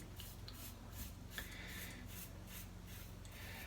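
A razor shaving a head in short, overlapping strokes, with repeated soft raspy scrapes in a steady rhythm, close and quiet, and no talking.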